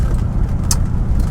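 A Rover P5B Coupe on the road, its engine and slightly louder-than-standard exhaust giving a close, steady low rumble throughout a brief stretch of driving, with no voices.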